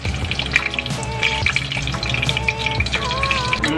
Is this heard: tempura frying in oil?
yes